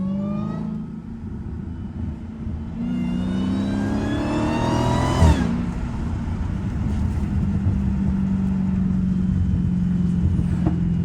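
A Dodge Hellcat's supercharged engine revs hard in snow, its rising supercharger whine climbing through a long pull before settling into a loud, steady idle rumble, close and with no talk.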